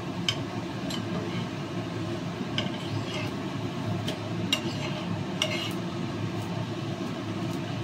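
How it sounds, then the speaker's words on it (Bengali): Steady sizzling of cauliflower paratha frying in a pan, a continuous hiss with occasional light clinks and scrapes of a utensil. "এই পিঠটা এবার ভাজা হোক"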